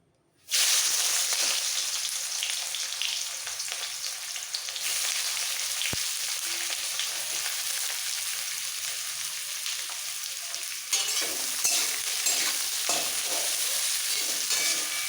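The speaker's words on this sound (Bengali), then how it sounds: "ফোড়নটা ভাজা হয়ে গেলে পেঁয়াজ কুচিগুলো ছেড়ে দিতে হবে" Chopped onions hit hot oil and spiced tempering in a fish bhuna recipe, starting a sudden loud hiss that settles into a steady dense sizzle with light stirring scrapes, with no voices.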